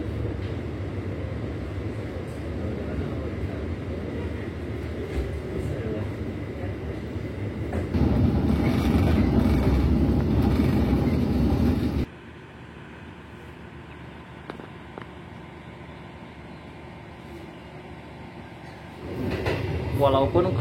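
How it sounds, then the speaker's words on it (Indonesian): Tumapel local train pulling out of Bangil station, a steady low rumble of wheels and carriage noise that swells louder midway, then drops to a quieter hum before rising again near the end; voices murmur in the background. "kereta api Tumapel diberangkatkan kembali tepat pukul 5:45 menit"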